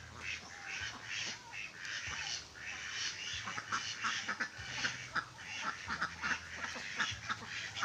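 Pet ducks quack repeatedly in a farmyard, a busy chorus of overlapping calls near and far over steady background noise, with no talk.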